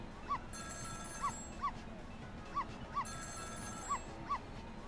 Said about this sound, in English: It was the sound of a telephone ringing coming from the apartment next door.